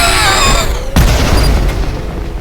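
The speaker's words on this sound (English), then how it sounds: "One simple sharp shot should do it." Gunfire in the fast-paced shooter ULTRAKILL: a single sharp, loud boom with a heavy low-end thump, following a busy stretch of game sound and tailing off into rumbling ambience.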